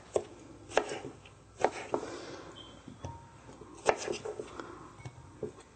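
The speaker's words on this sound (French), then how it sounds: "On n'a pas besoin de couper en trop petits morceaux, juste pour que ce soit plus facile à mélanger." A knife chops cucumber on a cutting board in a home kitchen while vegetables are prepared for mixing: a series of crisp, evenly spaced knocks heard up close over light background noise.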